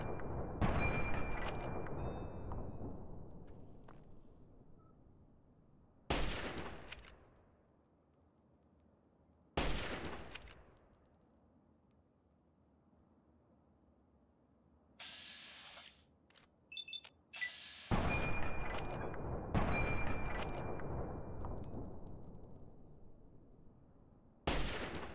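Gunfire in Fallout 3: several loud single shots, each with a sharp attack and a long fading echo tail, spaced irregularly, with a few quick clicking handling noises between them and no talk.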